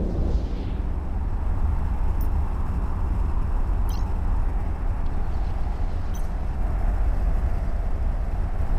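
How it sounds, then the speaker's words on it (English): A spaceship's warp drive in EVE Echoes gives a steady, loud, low rumbling roar that holds throughout, with a few faint high electronic blips on top. "Warp drive active."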